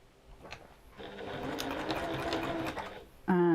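A sewing machine stitches fabric sashing for a beach hut pouch in a steady, close whirring run lasting a couple of seconds. It stops briefly before a voice starts speaking at the end.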